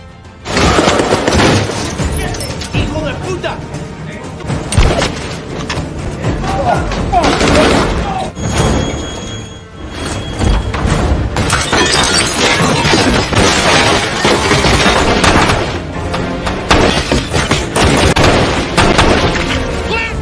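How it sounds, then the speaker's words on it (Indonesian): Dense bursts of gunfire and booming blasts from a room, loud and chaotic, with shouting soldiers' voices mixed in throughout, from a war movie. "Tiba-tiba ada tembakan dari salah satu ruangan"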